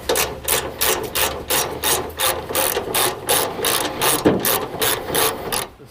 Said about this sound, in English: we're gonna take these two 12mm bolts off the top here and take this hood off.